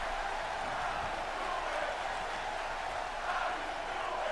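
A wrestling arena crowd in the WWE 2K18 video game keeps up a steady, even roar of cheering for the full length, with no sharp peaks.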